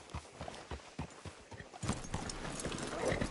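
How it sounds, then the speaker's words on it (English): Horse hooves clip-clop in Red Dead Redemption 2 as the horse is brought in to be hitched at a farm. The steady hoofbeats sound close and moderately quiet, with light background noise and no talking. "Hitch your horse up here."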